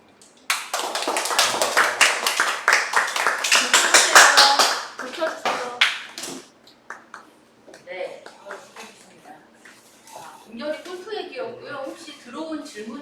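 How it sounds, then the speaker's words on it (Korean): Applause from an audience after a student internship presentation, a burst of many hands clapping for several seconds that thins into scattered claps and fades, followed by people talking. "시간차로 아직은 박수만 있었어요"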